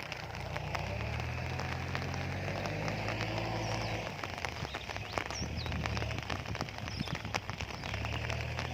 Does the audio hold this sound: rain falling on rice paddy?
yes